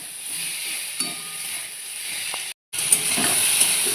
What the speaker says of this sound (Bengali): আলুটা অল্প ভাজা হয়ে গেছে এবার নুন আর হলুদ দিয়ে দিলাম দিয়ে কেটে রাখা টমেটো আর হচ্ছে কাঁচা লঙ্কাটা দিয়ে দিলাম